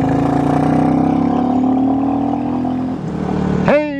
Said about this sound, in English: Can y'all hear that extra growl?